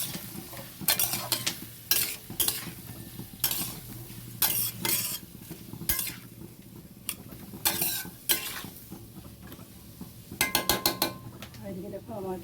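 Grated coconut fries in a pan with a soft continuous sizzle, punctuated by repeated scraping and stirring strokes of a utensil against the metal at close range.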